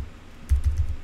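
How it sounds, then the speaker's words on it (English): Keys clatter on a computer keyboard in a quick burst of four or five close, soft taps over a faint background hum while a command is typed at a network lab workstation. "we're going to type in ping"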